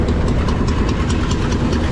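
Boat engine running, a steady low rumbling drone with a faint rhythmic pulse, close and loud throughout, with no talk.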